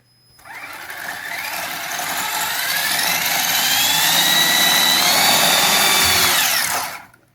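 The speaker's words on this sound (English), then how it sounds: "and now the motor." The electric motor of a Tamiya DF03 Avante MKII RC buggy spins up into a loud, steady high-pitched whine that holds for about six seconds before cutting off abruptly.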